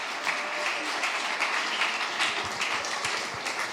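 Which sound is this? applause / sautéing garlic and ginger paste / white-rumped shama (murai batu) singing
applause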